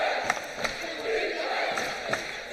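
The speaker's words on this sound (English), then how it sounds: "Crowd has come alive here at the Convocation Center" A crowd cheers at a women's college basketball game in the Convocation Center, a steady, rising roar of voices with sharp shouts poking through, while a commentator talks over it.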